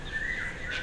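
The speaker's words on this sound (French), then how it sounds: "tu entendras les oiseaux." Bird chirping in a live stage show, a single brief whistled chirp with a gliding tone, fairly clear and heard on its own.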